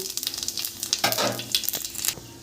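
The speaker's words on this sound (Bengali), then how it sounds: "তেল গরম হয়ে গেছে জিরে ফোড়ন দিয়ে দেবো জিরেটা হালকা একটু লাল করে নেব" Cumin seeds sizzling and crackling in hot oil in a kadai, with continuous frying hiss and sharp spitting pops, loud and close, with occasional stirring.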